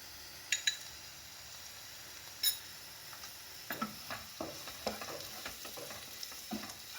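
Onions fry in a pan for a beetroot palya as chili powder is added, giving a soft, steady sizzle broken by faint scraping and stirring clicks.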